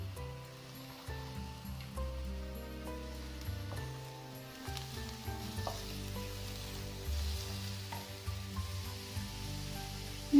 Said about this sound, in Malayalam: ഇനി ഇത് മീഡിയം ഫ്ലെയിമിൽ വെച്ചിട്ട് നന്നായി വഴറ്റിയെടുക്കണം.